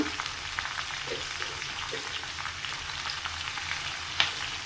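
Sliced onions and curry leaves frying in hot oil in a home kitchen give a steady, close sizzling hiss with a single sharp pop near the end, and no voices.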